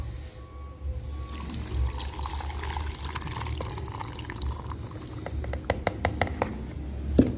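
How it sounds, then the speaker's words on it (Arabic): Lemon cooking water is poured from a pot into a glass jar, a steady trickling patter with a few sharper drips and splashes near the end, close and fairly quiet. "هننزله بقى كده على البرطمان"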